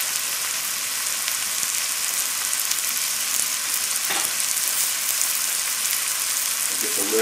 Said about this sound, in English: while that's sauteing